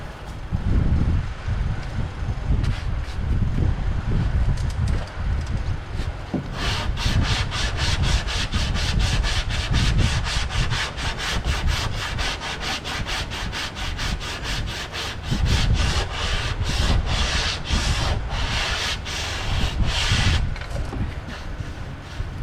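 Body filler on a car body panel being sanded by hand, a loud, steady abrasive rubbing that turns into rapid rhythmic back-and-forth strokes halfway through and continues throughout without speech.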